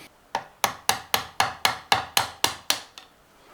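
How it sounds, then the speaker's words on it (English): An old Bakelite nut being tapped out of a 1981 Gibson Les Paul Heritage guitar neck: ten sharp, evenly spaced hammer taps ring out close and alone at a steady rhythm. "I'm just going to take that nut out."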